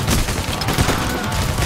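Dense, continuous gunfire in the heist video game Payday: The Heist, a loud unbroken rattle of shots and booms filling the whole moment, no talk.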